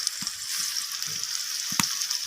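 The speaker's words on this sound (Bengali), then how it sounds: "লবণ আর হলুদটা দিয়ে আমি আলুটাকে একটু লালচে করে ভেজে নেব।" Potatoes with salt and turmeric frying in hot oil, a close, steady bright sizzle with a few soft stirring knocks underneath, no talking.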